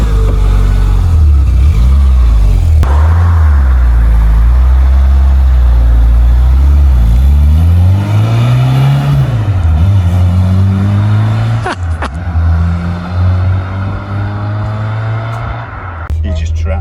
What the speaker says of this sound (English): You've got to keep the revs on it.